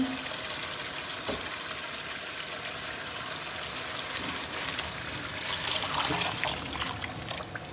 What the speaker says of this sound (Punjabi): ਚਲੋ ਜੀ ਹੁਣ ਆਪਾਂ ਇਹਦੇ ਵਿੱਚ ਪਾਉਣ ਲੱਗੇ ਆ ਗਰਮ ਪਾਣੀ